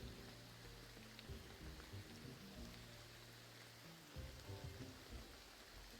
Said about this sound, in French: Oui, il pleut beaucoup même.